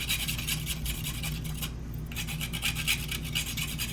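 Onion rubbed against a grater over a tuna stuffing, a close, quiet rasping scrape in quick repeated strokes, alone without speech.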